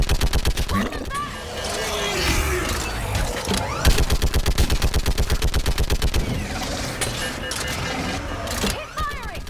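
Rapid, sustained machine-gun fire in the video game Mass Effect 3, a loud, evenly spaced stream of shots that keeps going through the battle with brief pauses. Voices call out now and then under the gunfire.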